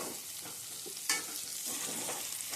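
Green garlic and garlic cloves sizzle steadily in a hot pan for a Gujarati green turmeric curry, a continuous close frying hiss with a brief sharper crackle partway through.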